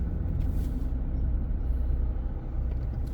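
Stop-and-go traffic on the road to Central in Chiang Rai gives a steady low rumble of idling cars, buses and trucks, heard from inside a vehicle, with a faint hiss like an air brake.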